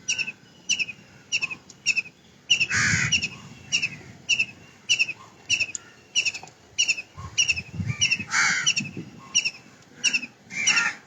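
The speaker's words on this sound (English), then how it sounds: "That bird is doing its own japa." An outdoor bird calls over and over in short, regular whistled notes, roughly one per second. The calls are fairly close and clear, with occasional rustling thumps between them.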